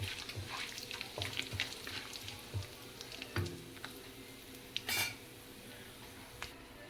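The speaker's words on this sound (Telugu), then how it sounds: "ఇది ఆయిల్లో హోల్ గరం మసాలా వేసుకోవాలి." Whole garam masala sizzles quietly in hot oil for kadai chicken, a soft steady crackle with occasional small pops and a utensil tap or two, faint and close, without speech.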